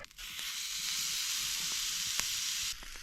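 Moose meat sizzles in lard in a hot pan, a steady close hiss running almost without pause for about two and a half seconds before easing off, with a few faint pops and no voices.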